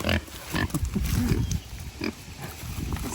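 Pig squeals and grunts on a farm as a donkey chases it off, with bursts of animal noise over rustling outdoor background.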